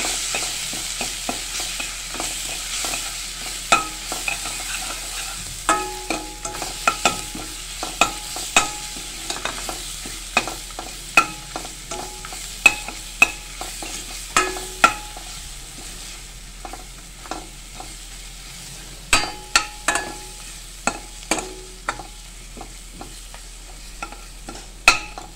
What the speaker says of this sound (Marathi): आता हे छानपैकी आपण असं परतून घेणार आहे